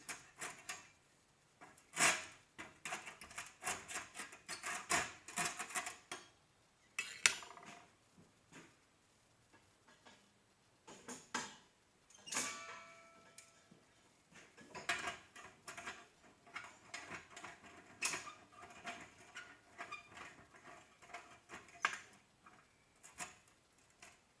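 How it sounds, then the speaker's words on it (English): Clamping down a workpiece for stick (SMAW) welding practice, with close metallic clanks, ratcheting clicks and knocks coming in irregular bursts, fairly quiet and without talk. "I think I could clamp down the workpiece."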